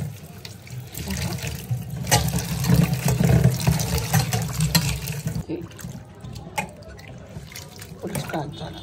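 Leafy greens are washed under clean running water from a tap, a steady splashing flow with drips and a low hum; it quietens partway through as the stream changes.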